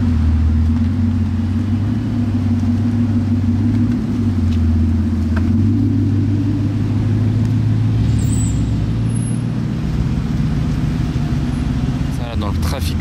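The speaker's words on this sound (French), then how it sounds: "Dans le trafic parisien là" Dense Paris street traffic around an escorted Bugatti, with a continuous loud low rumble of nearby engines, buses and trucks, a brief air-brake-like hiss, and people talking over the drone.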